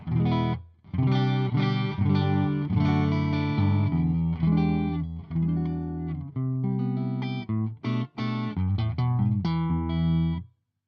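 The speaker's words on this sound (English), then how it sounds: "this is guitar straight to the power amp section of the dual clones" Clean electric guitar played alone straight into a power amp, chords and single notes ringing out loud and close with a few brief pauses between phrases.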